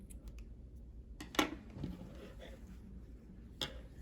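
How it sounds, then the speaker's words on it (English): Scissors snip through crochet yarn, giving two quick crisp cuts close by over a quiet room. "cut your yarn,"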